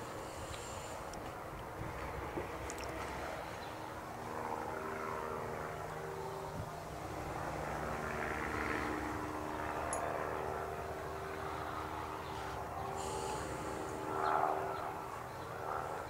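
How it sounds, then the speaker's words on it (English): A distant crop-dusting helicopter drones steadily overhead, its engine hum swelling slightly as it passes, with faint outdoor background noise. "Yeah, I think they're crop dusting."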